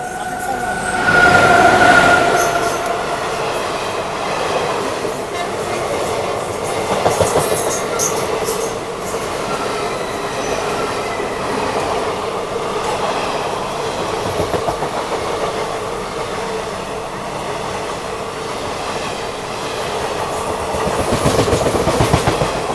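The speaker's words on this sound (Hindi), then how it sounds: "स्पेशल ट्रेन ओवरटेक करके जाएगी अब।" A special train overtakes the Mumbai–Amritsar Paschim Express, a loud continuous rush with rhythmic wheel clatter and brief squeals heard from on board, steady for the whole stretch with no talk.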